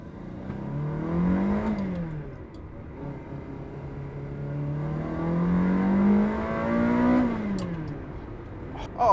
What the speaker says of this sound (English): the Ferrari engines from this era, they're just so pure